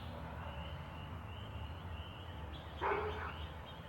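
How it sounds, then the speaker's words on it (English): A dog gives a single short bark, fairly distant and brief, over a steady low background hum. "Dog."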